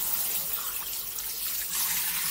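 Cold water pours steadily from a tap in a camper van, a continuous close hiss and splash into a sink that holds even for the whole moment, with no talking.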